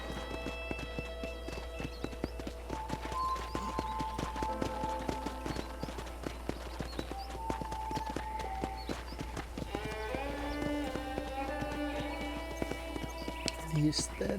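Horse hooves clip-clopping in the Western open-world game Red Dead Redemption, a steady rhythmic trot under game music and ambient ranch sounds, with a voice talking over it.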